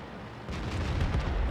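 A single heavy gun blast from an SU-152 tank destroyer firing a high-explosive shell in a tank video game, a sudden loud boom at about half a second followed by a rumbling roar that stays loud to the end, with no speech.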